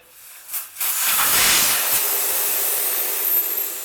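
Air rushes out of a motorcycle front tire in a loud, steady hiss that starts after a brief spurt and holds close and strong to the end.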